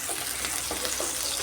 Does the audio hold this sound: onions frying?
yes